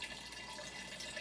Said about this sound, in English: I could pour this faster